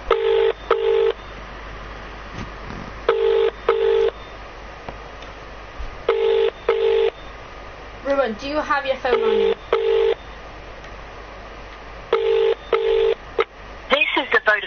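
An outgoing mobile phone call to Ruben's phone rings out repeatedly, loud, evenly spaced bursts of ringback tone roughly every three seconds, with a voice talking briefly between rings.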